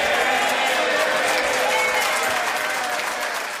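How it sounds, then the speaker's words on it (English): Applause fills the House of Commons chamber, a dense steady wash of clapping from many hands that holds loud and unbroken throughout, slightly easing toward the end. "And even applause"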